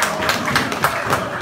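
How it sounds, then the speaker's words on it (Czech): Audience applause at an award ceremony for laureate Jaroslav Blažek, at the end of a march event, a dense steady patter of many hands clapping, fairly loud and continuous with no talk. "potlesk pro Jaroslava Blažka"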